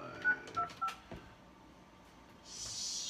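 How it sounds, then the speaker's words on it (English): Three quick, faint telephone keypad tones from the Mojo Dialer calling software play in a row, followed by quiet and a soft hiss. "we're going to start dialing"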